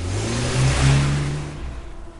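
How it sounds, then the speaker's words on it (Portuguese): A car driving off, its engine revving loud and close then easing and fading slightly as it pulls away, with no voices over it. "Entrou no carro e partiu."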